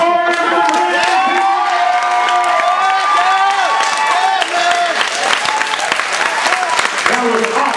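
Crowd at a boxing fight night applauds and cheers, a steady loud wash of clapping and shouts with a voice over a loudspeaker riding on top throughout.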